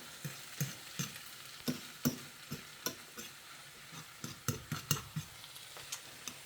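Sweet potatoes fry in bacon grease in a pan, giving a soft, continuous sizzle broken by repeated sharp clicks of a spatula or utensil stirring them, all fairly quiet and close, with no voices.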